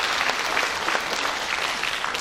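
An audience at a rally urging the relocation of Incheon City Hall to Luwon City breaks into dense, sustained applause, loud and even from start to finish.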